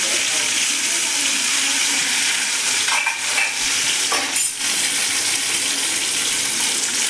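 Quail pieces and small shallots fry in hot oil in a pan for a Kaadai 65 dish, giving a steady, dense sizzle throughout, with brief stirring scrapes midway.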